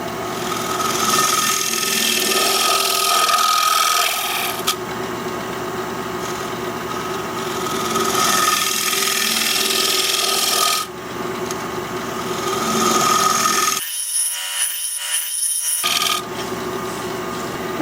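A wood turner holds a scraper against a spinning workpiece on a lathe. The cut gives a sustained, fairly loud rasping scrape that drops out briefly near the end, then resumes.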